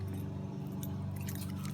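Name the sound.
keys jangling on original Yamaha RD350 switch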